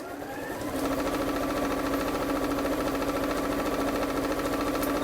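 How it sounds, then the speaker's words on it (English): A sewing machine runs steadily along the raw edge of a drawstring bag for NHS uniforms, a continuous close-up motor whir with fast rhythmic needle clatter starting just after a brief quiet moment, with no talking. "So I'm just sewing now along that raw edge, using my foot as a guide."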